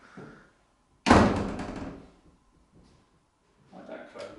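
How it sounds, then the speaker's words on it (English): A door swings shut with a loud, close thud that fades over about a second, with brief talk before it and faint voices after. "Oh, interesting. The doors are closing."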